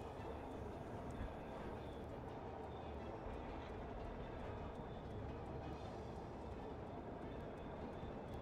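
Steady rumbling rolling noise of a train ride in the Monsters Inc. PS2 video game, continuous and even throughout, with a person talking over it.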